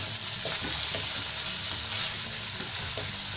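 Chopped capsicum and green chillies stir-fried in a pan, a steady close sizzle with repeated scraping and stirring knocks throughout, no voices.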